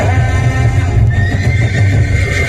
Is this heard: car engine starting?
no